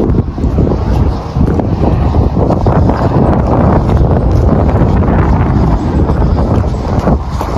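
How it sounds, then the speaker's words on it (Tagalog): Strong wind buffets the microphone outdoors in Canada, a loud continuous rumbling roar with gusty surges throughout and no speech. "Lakas ng hangin, grabe."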